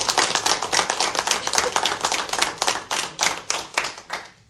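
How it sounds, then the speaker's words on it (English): A small group claps at a New York State Workers' Compensation Board meeting, close and crisp individual hand claps in a quick regular rhythm that loosens and thins toward the end. "Let's give them a round of applause."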